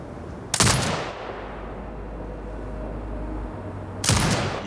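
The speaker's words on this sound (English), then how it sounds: "Exit binocular mode and command the turret to fire." A turret in the video game Sniper Ghost Warrior Contracts 2 fires loud, sharp blasts in two bursts a few seconds apart, each leaving a lingering low rumble between shots.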